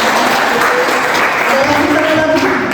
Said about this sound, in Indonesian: Tepuk tangan untuk Azra